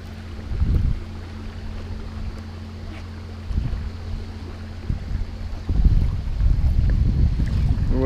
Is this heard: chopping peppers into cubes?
no